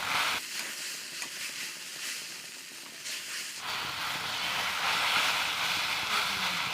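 Black cumin and dried chili frying in oil for a crispy taro-stem dish, a soft sizzle that swells into a broader, steady hiss partway through, with no one speaking.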